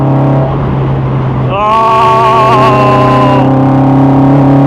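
Westfield Se NA R-T sports car engine droning steadily, then climbing sharply in pitch through a gear change before settling back, loud and close from inside the car.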